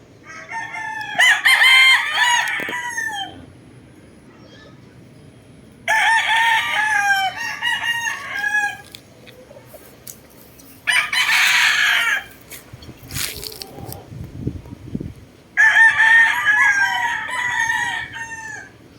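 Roosters at a chicken farm crow loudly and close in four separate bursts, each drawn-out cock-a-doodle-doo separated by quieter gaps with a few clucks and low farmyard noise.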